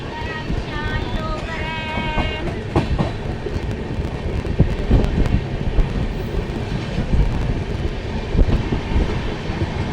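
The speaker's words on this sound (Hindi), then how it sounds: "देरी की वजह से ट्रेन ने अपनी रफ्तार अच्छी पकड़ ली है।" The Amritsar–Ajmer Express runs at speed, its carriages rattling and clattering over the rails in a dense, continuous roar, with faint voices underneath near the start.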